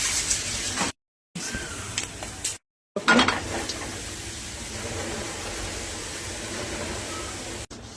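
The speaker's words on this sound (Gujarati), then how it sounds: "આમાં થોડું ઘણું ઘી બચ્યું હોય ને ઘીથી શેકાવા માંડ્યું છે" Flour roasting in leftover ghee in a pan, with a soft steady sizzle and occasional clinks and scrapes of a utensil against the pan, broken by brief silent cuts.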